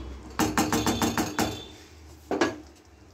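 Spoon stirring and mashing pui shak vegetable chorchori in a cooking pot, a quick run of about eight sharp knocks against the pot, a pause, then one more close knock.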